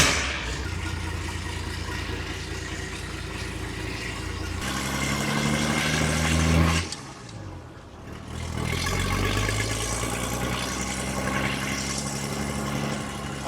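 Old diesel tractor engine, forty years of grime, running steadily after a restart: a loud, continuous idling rumble with a brief dip in power before it picks back up and keeps chugging evenly.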